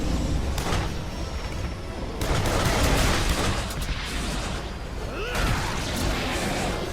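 Video game combat with pistol and rocket fire against a giant monster, dense bursts of shots and crashes running continuously at a steady loud level with no clear pauses.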